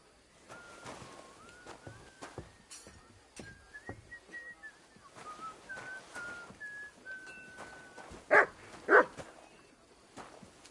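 Within a castle setting, a dog gives two loud, close barks near the end, after a long run of soft melodic whistling and faint clicks.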